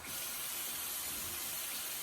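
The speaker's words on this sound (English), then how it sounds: "we're gonna cut on the faucet with this paper towel" Water runs from a sink faucet in a steady hiss and splash, close and continuous for the whole stretch, with no voices.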